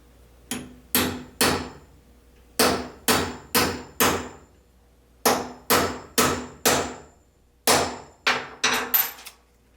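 A hammer strikes a rivet setting tool while new rivets go into a Traxxas Bigfoot RC truck body: sharp, ringing metallic blows in quick bursts of two to four, about eighteen hits with short pauses between groups, close and loud.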